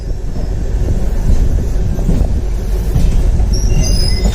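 A long-distance train on the Hosur–Yeshwanthpur route near Bangalore rumbles past with steady, heavy wheel noise and rattling, some high squeal near the end, and wind buffeting the microphone.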